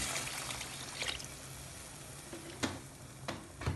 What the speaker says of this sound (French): Là, ici, je vais rajouter mon litre d'eau.